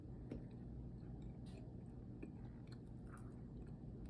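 Someone bites into and chews a pandan Grinch pancake topped with whipped cream: soft, moist chewing with a few faint crunchy clicks, close up and quiet, no talking.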